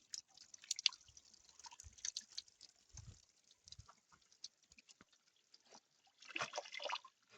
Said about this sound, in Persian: قطره قطره آب میریزه پایین